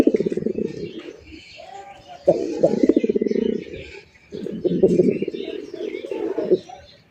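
A fancy male pigeon coos in low, throaty bursts, three rolling phrases separated by short pauses, close and fairly loud.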